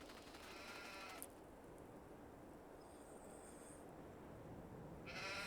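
Sheep bleating in the farming video game Farming Simulator 22, a faint, drawn-out bleat, then a second one beginning at the very end, over a steady low ambient background.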